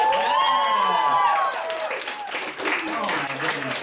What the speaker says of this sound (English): also maybe some applause for her, you guys